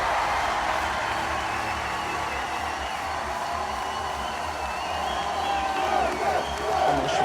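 A live audience at a rap competition final applauds and cheers to vote for a performer, producing a continuous dense wash of crowd noise that swells slightly toward the end.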